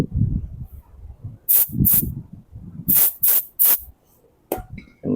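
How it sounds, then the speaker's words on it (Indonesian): Spray cleaner is sprayed into a Honda Blade motorcycle carburetor in several short, loud hissing bursts, with a quieter low rumble and handling sounds in the gaps between them. "Kemudian kita tutup lubang-lubangnya, kita semprot begini."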